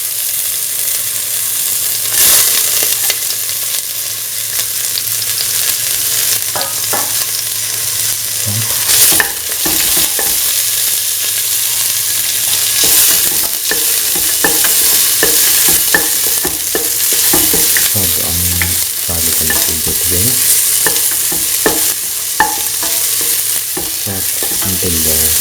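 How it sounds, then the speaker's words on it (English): Garlic and onion pieces fry in a pan with a loud, steady sizzle while a spoon scrapes and stirs continuously. The cooking is for a kidney bean, snake gourd and coconut milk stew. "Garlic and putting the onion pieces."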